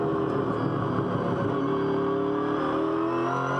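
Onboard a Trading Post Ford Falcon V8 Supercar during a race lap, a dense, loud engine roar holds steady at high revs, a constant close drone with no voices.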